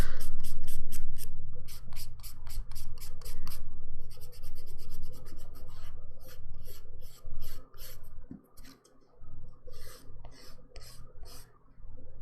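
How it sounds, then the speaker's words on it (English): A nail file rasps steadily against a dip powder manicure with purple tri-color glitter, close and fairly loud, in quick repeated strokes with brief pauses between bursts. "you guys are getting your little ASMR nail filing at the moment."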